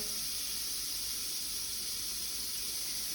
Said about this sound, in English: You can hear they've got a nice little sizzle going on.